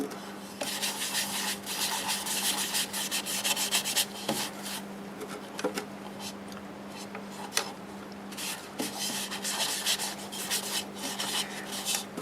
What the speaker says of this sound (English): here goes the first coat of sealer on the inside